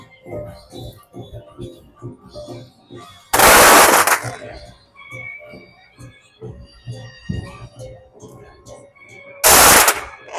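Strings of firecrackers go off at a dragon boat festival in Dongguan, a rapid, close crackling with two loud, dense bursts of blasts, and voices are heard in the crowd.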